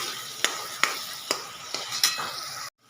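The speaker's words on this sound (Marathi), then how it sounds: "छान तांबूस रंग येईपर्यंत फ्राय करून घ्यायचं" Onions stir-fry in a pan, giving a bright, close sizzle broken by about five sharp spatula scrapes and taps in an uneven rhythm, ending abruptly.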